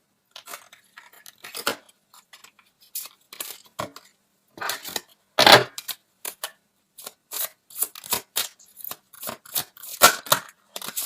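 Tarot cards being shuffled and drawn during a reading, with a run of crisp papery flicks, slaps and short riffling bursts that come in irregular clusters, close and fairly loud, with no talking.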